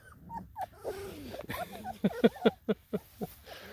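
Young guardian-breed puppies with newly opened eyes growl and whimper up close, a string of small rhythmic yelps and rumbling growls that grows quicker and louder in the second half.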